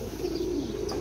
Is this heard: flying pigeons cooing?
yes